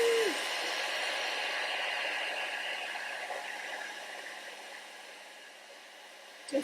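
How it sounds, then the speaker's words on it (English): A steady, loud rush of blowing air, like a hair dryer running close by, fading slightly before a brief clunk at the end. "you use your good old hair dryer"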